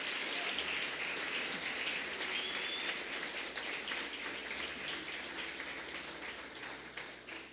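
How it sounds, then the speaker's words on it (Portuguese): Congregation applauding during a church service, a dense steady wash of clapping that sounds close to rain, filling the whole span at a constant level with no talk. "Se você recebe isso, aplauda ao Senhor Jesus."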